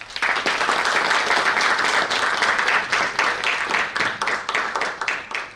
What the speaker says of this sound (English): each of them deserves a round of applause